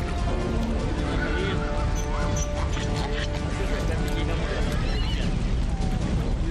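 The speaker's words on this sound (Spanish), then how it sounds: "¡Cuidado con los caballos!" Horses neigh and whinny amid clopping hooves in a dense, continuous scene, with shouting voices and other crowd noise throughout.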